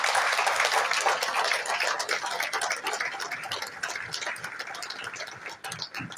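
A gala audience applauds with dense, even clapping that fills the room, moderately distant and gradually thinning toward the end, with no speech over it.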